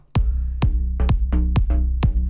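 Punchy deep house synth plucks with heavy modulation over a thumping low end, repeating in a steady quick pulse, close and loud.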